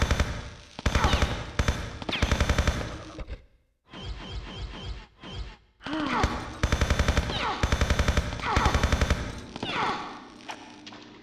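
Rapid burst-mode gunfire from a scoped gun in Tomb Raider Chronicles, loud, dense clattering volleys that break off briefly, then resume in long repeated bursts.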